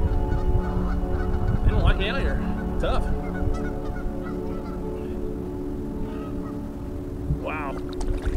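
Geese honk repeatedly near a flooded Chattahoochee River during a kayak trip, with several sharp, nearby calls in short bursts and a last honk near the end, while someone talks over them.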